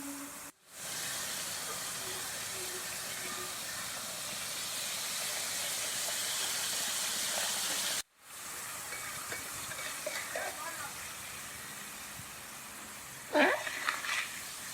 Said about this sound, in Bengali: কারণ লবণ জলটা দিলে একটু ফোটে।